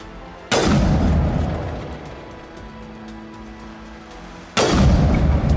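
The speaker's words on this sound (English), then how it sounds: "we're gonna switch to my sniper rifle as I take out that Geth" Sniper rifle shots fired at Geth enemies in Mass Effect Legendary Edition on Virmire: two loud booming cracks several seconds apart, each followed by a rumbling decay over low game ambience.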